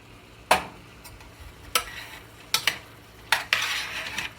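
A spoon scrapes and clinks against a pan as turmeric and red chili powder are stirred in, giving a few sharp, scattered scrapes and taps up close at moderate volume.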